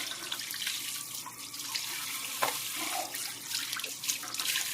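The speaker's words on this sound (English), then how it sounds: "I'll rinse off my little salt packet that way, spice packet that way" Tap water running over a corned beef salt and spice packet under a faucet, a steady close splashing hiss with small irregular splatters as the packet is rinsed, no voices.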